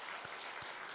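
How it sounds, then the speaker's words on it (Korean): Congregation applause in a church service for the volunteers and choir, a steady dense wash of clapping throughout at moderate level. "자, 우리 모든 봉사자들을 위해서 또 우리 성가들을 위해서 박수로 한번"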